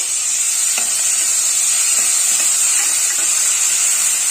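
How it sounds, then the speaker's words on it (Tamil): Onions and tomatoes sauté in a hot pan, giving a loud, continuous close sizzle and hiss with a few faint stirring clinks and no talk. "இப்போ இந்த ரெண்டு தக்காளியை இதோட சேர்த்துக்கலாம் வெங்காயம் வதங்கிருச்சு"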